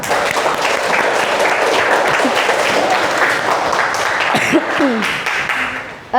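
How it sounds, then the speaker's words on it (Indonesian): A classroom of students applauds all the groups during a school lesson: dense, close clapping runs steadily for several seconds, then thins out, with a brief voice and some stray sounds near the end. "Jadi kita tepuk tangan dulu buat semua kelompok."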